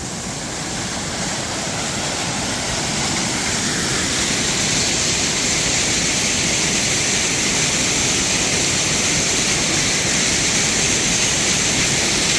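A waterfall on the Machu Picchu circuit roars as a loud, steady broadband rush of falling water, continuous and close, with no voices heard.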